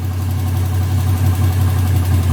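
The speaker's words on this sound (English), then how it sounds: "So the engine sounds strong." A Luhrs 28 boat engine runs steadily at idle, a loud, close, even low rumble with a strong throb and no variation or voices over it.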